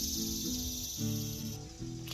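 Male cicadas buzz loudly in summer, a dense continuous drone with layered, wavering tones that holds steady throughout, with no voices.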